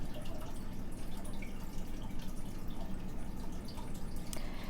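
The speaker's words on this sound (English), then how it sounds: "That way, the water will easily flow through." Water trickling and dripping as it drains through potted houseplants, a continuous busy patter of small drips and splashes at close range, steady and unbroken with no voices.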